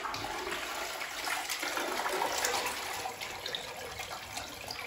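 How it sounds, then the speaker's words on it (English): A toilet connected to a home sewage treatment plant flushes, a continuous rushing, gurgling wash of water that holds steady and fairly close for several seconds, with no talking. "what we're going to do now is we're going to flush the toilet"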